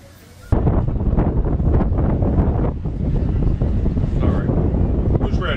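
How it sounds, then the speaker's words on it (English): Strong wind buffets the microphone on a front porch, a loud continuous rumbling roar with gusty surges that starts abruptly and holds throughout, with no voices over it. "I'm just sitting here now listening to this wind."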